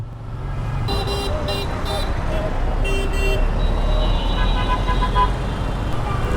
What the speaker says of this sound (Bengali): ঈদের দিন ঢাকা শহরে এত জ্যাম, এটা আশা করা যায়?